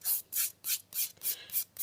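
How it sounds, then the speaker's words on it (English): A 240-grit file strokes an acrylic nail in seven quick, even rasping passes. The scratchy rhythm is close and quiet. "you can flip back to that 240 grit file"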